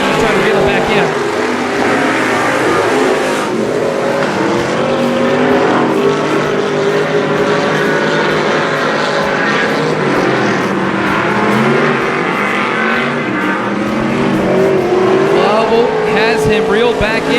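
Race cars roar around a track at night during the 2017 Texas Grand, a steady loud engine drone that rises and falls as they run down the backstretch, with commentators talking over it throughout.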